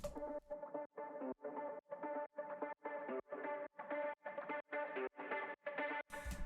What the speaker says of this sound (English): So the guitar loop sounds like this.